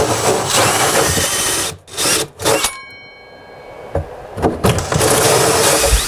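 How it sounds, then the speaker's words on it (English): A power drill bores into a ceiling while a hanging light is installed; loud, close grinding comes in bursts with short pauses, then a quieter gap before the drilling resumes strongly toward the end. "I'm gonna stick with the plan and keep drilling."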